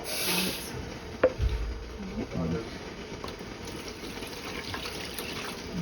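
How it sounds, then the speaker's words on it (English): Water runs steadily into a plastic bottle with a hollow, filling gurgle, close by and continuous, with faint handling noises. "I'm going to fill this up with water because I hate to leave any dye behind."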